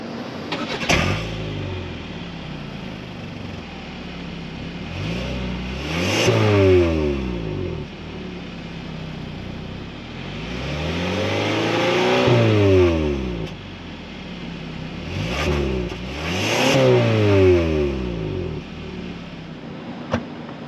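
A 2025 Kia K5 GT-Line's 2.5-liter engine revs up repeatedly, pitch climbing and falling in several surging accelerations, loud and close with road noise between.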